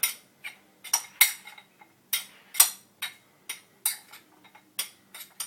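A utensil stirs a pre-workout carb meal in a bowl, making a steady series of about fifteen close, crisp clinks and scrapes in an irregular rhythm.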